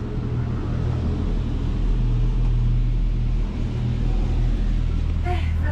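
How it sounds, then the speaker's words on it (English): A steady low rumble and hum fill the interior of an electric cable car during a ride, continuous and fairly loud, with a brief higher whine near the end. "First time in the electric cable car."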